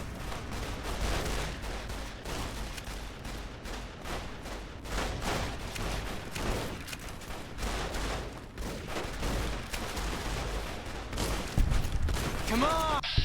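Gunfire from a worn weapon in Fallout New Vegas, rapid repeated shots in a dense, uneven volley that runs continuously, with game voices under the firing near the end.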